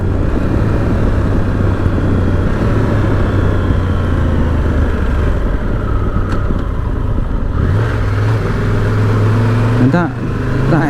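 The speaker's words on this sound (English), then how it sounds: "extra revs when you let the clutch out" A Triumph Tiger 1200 GT Pro motorcycle engine revs and drones up close, pitch rising and falling as it accelerates, with a brief louder surge near the end.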